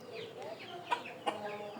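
Chickens cluck in short, soft bursts, with a couple of sharper squawks among them, somewhat distant under a quiet background.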